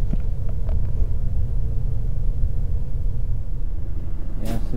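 A car engine drones in a steady low rumble from inside the cabin as the driver presses the accelerator, loud and continuous with a brief higher-pitched sound near the end.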